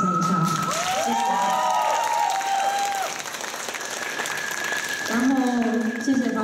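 An audience at a small indoor band talk-and-performance event bursts into applause. The clapping is steady and close, some shouts and whistles rise over it partway, and a voice talks at the start and again near the end.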